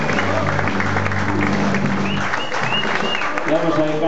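The audience applauds at a big band jazz club concert, a steady roar of clapping from a crowd that carries on evenly and loudly from start to finish, with voices and a sustained musical tone blending in beneath it.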